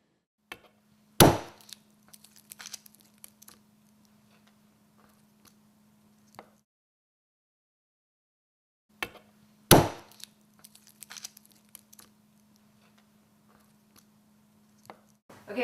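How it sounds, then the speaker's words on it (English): Two bursts of knife strikes on a cutting board, each with a sharp loud first chop and a short run of lighter chops, separated by several seconds of silence; garlic being smashed and diced finely for fried rice. "once I've smashed my garlic, I'm going to dice it up finely"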